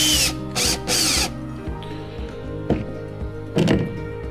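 Power driver sinking a screw to fasten a fish finder housing on a Hobie Passport 12 kayak, three short loud whirring bursts followed by quieter ratcheting clicks and a few sharp knocks, close up with no talk.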